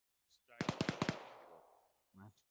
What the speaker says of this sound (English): Move south towards that gunfire over.